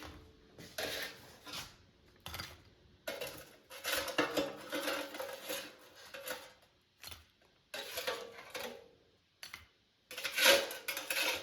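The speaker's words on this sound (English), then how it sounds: "Let me take them out of the air fryer." Trader Joe's Pastry Pups being lifted out of an air fryer basket, with a run of metallic clatters, knocks and scrapes in irregular bursts, fairly close and loud, with no talking.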